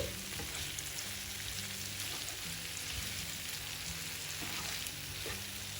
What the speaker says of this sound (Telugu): సిమ్లా మిర్చిని కొద్దిగా వేగనివ్వాలి.